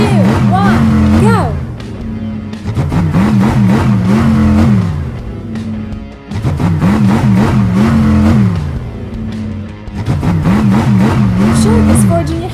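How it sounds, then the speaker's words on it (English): Cartoon monster trucks revving their engines at the start of a race, with repeated loud rising and falling revs in bursts separated by short pauses, some voices mixed in. "The monster trucks are ready to start. 5, 4, 3, 2, 1, go!"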